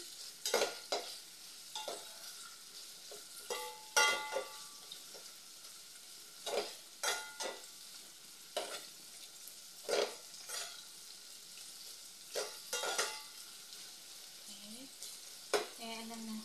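Sardine soup with tomatoes, soaked in tomato sauce, being stirred in a pot, with a steady sizzle beneath repeated scraping strokes spaced every second or so, close by and moderately loud.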